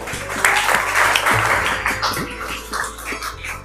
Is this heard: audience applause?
yes